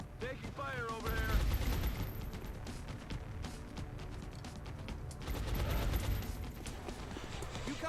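Gunfire in XCOM: Long War, with rapid automatic bursts and scattered shots crackling through a busy battle mix. Voices talk faintly beneath the firing.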